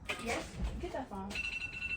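A home telephone rings in short repeated trills under ongoing talk nearby.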